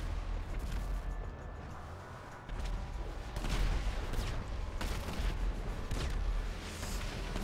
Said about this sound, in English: Do you see how many rockets fly past?